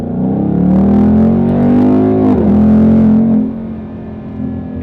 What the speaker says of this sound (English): Exhaust in race mode is just amazing.